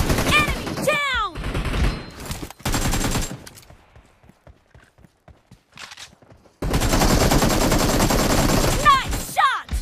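Bursts of machine gun fire rattle through an arena team deathmatch video game. Dense rapid volleys alternate with quieter stretches of scattered single shots and footsteps, and game announcer voices talk between them.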